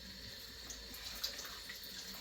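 Cold water runs steadily from a tap into a sink, a soft continuous hiss and splash with no voices.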